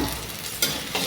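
Mango-filled singaras deep-frying in plenty of refined oil give a steady, close sizzling hiss, with two brief louder crackles standing out near the end.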